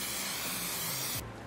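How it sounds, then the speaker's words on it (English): Cooking oil spray hisses onto a baking tray in a single steady burst lasting just over a second, close and even, then cutting off abruptly. "Spray low amount of cooking oil."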